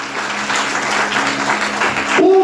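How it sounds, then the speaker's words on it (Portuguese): A church congregation applauds during an Easter service, a brief burst of steady crowd clapping with a faint tonal hum beneath, and a voice starting to speak as the clapping ends. "Se você crê, aplaude o Senhor Jesus nessa noite."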